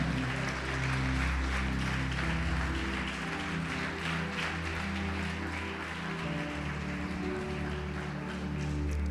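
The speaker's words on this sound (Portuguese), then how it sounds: "Vamos aplaudir e vamos glorificar o Senhor." Church congregation applauding during a Portuguese-language worship service, a continuous wash of clapping that runs for about nine seconds over a low, sustained musical drone.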